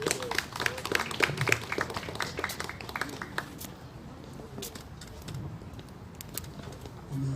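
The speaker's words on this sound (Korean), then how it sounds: "무대로 모실 때 큰 박수로 환영해 주시기 바랍니다" A scattered, thinning round of applause from an audience at a memorial ceremony for Ernest Thomas Bethell, the clapping loudest at first and tapering into sparse claps with low murmuring underneath.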